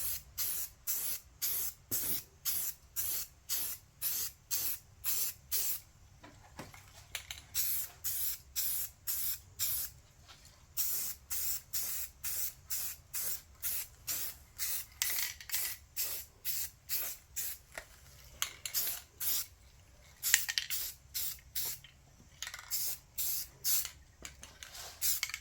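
Short, rhythmic hissing bursts of an aerosol spray can coating a model diesel locomotive shell, close and loud, with brief pauses between puffs and no talk.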